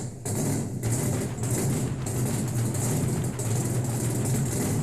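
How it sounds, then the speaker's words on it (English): A powerful gasoline car engine idles steadily and close by, a continuous low rumble with slight fluctuations, heard alone without voices. "That's the sound of real horsepower"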